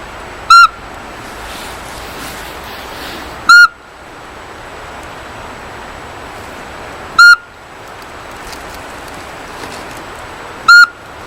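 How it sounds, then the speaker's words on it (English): A recorded northern pygmy owl from Vancouver Island gives four high, clear whistled toots, evenly spaced about three and a half seconds apart over quiet background hiss. "the northern pygmy owl, the smallest owl we have on Vancouver Island, only about 6 inches tall, he sounds like this"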